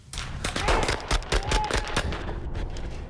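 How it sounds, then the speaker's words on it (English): Rapid bursts of gunfire ring out during a police active-scenario medical training exercise at Hennepin County Medical Center, dense and loud, in overlapping cracks with some voices mixed in. "Today, they put their medical training to the test when gunshots rang out around them."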